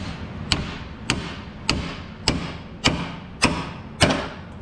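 Hammer striking a tie rod separator on a 2005 Cadillac Escalade steering linkage, seven loud metallic blows evenly spaced about half a second apart, close and ringing briefly after each hit.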